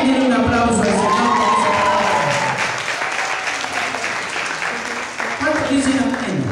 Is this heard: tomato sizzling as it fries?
no